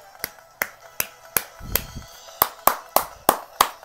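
A video game character claps in a sharp, evenly spaced series of about a dozen crisp hand claps, heard alone with a faint background.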